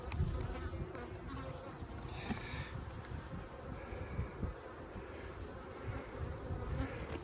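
Honeybees swarm at an open, strong hive on a farm, giving a dense, continuous buzz close by with a few louder passes of single bees.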